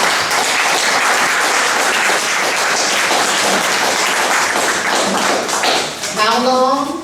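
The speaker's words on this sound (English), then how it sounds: "Let's give him a big round of applause." An audience at a 40th-anniversary gathering for the 1978 Rocky Mount sanitation workers strike breaks into sustained loud applause for a speaker, dense clapping throughout before a voice begins to speak near the end.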